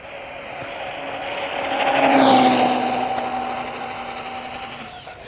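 An MJX 10210 4S RC monster truck makes a fast speed pass, its high electric motor whine swelling as it approaches, peaking loudly close by, then falling in pitch and fading as it speeds away.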